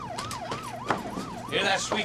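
A police siren wails close by in a rapid rising-and-falling yelp, cycling steadily, with some clattering noise and a brief voice mixed in near the end.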